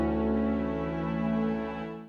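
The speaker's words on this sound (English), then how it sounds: "The most recognizable sound in Minecraft's music is the piano" Piano from the Minecraft video game soundtrack, a sustained chord with rich harmonics that rings steadily and then fades at the end, heard alone without talking.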